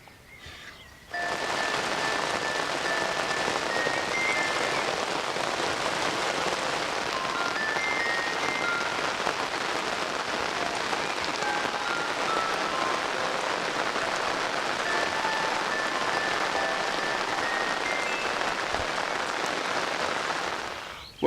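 Heavy rain pours down steadily outdoors, a dense, even hiss of drops on surfaces that starts abruptly and continues unbroken, with no voices.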